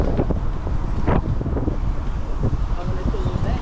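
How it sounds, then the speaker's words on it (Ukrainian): Heavy wind buffeting the microphone during a bike ride, with rumbling gusts throughout and faint movement noises underneath. "Ох, вітер мене зносить,"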